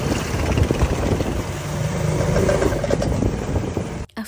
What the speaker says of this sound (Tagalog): At heto na, nakasakay na ako ng helicopter.